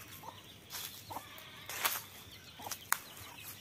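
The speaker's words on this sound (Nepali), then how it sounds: "कुखुराको चल्लाहरू तपाईँहरू हेर्न सक्नुहुन्छ" Chickens with chicks out by a rice paddy, giving a few soft, scattered clucks at a distance over quiet outdoor background.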